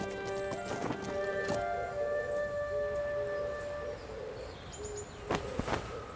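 Steady hoofbeats of horses in the video game Masquerada: Songs and Shadows clip-clop along with a horse's whinny, over a layered ambient music bed, with a couple of sharp accents near the end.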